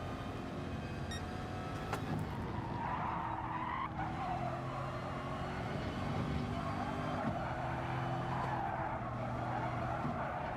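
Race car in GT Sport braking hard with tire squeal and skidding, a steady engine drone running throughout at moderate level with no voice over it.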